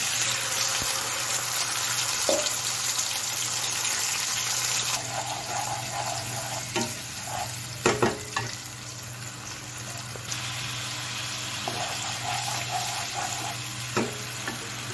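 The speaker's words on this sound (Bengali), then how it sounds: "ফোড়নটা যে ফ্রাই হয়ে সুন্দর গন্ধ বেরাচ্ছে, যে মশলার পেস্টটা আমি রেডি করেছি সেটা দিয়ে দিলাম" A steady sizzle as spice paste hits a hot pan of tempering with a dried red chilli, continuous frying hiss with occasional clatter and stirring knocks, close, no talk.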